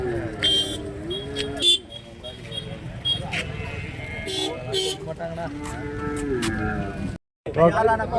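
Native cattle moo repeatedly at a busy livestock market in Orappam, Krishnagiri district, with long drawn-out calls. Vehicle horns and people talking in the background run beneath them.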